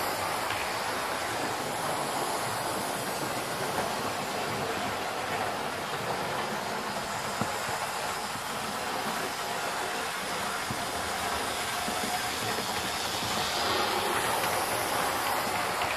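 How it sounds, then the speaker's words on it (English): A heavy diesel locomotive thunders through Yatton Station in a continuous rumbling wash of noise, loud and unbroken throughout. "one of the locomotives seen thundering through Yatton Station"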